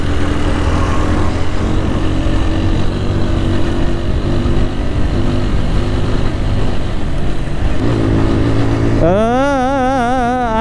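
A motorcycle engine drones steadily and loudly while riding low on fuel along a road by the Buriganga river, never climbing in revs; near the end a voice cuts in over the engine.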